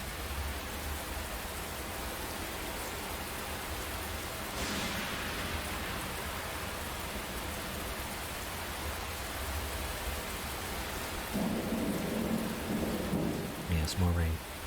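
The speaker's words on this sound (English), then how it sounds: "Yes, more rain." Steady, dense rainfall in the video game AI: The Somnium Files hisses throughout, with low rumbling swells and a heavier burst of rain near the end.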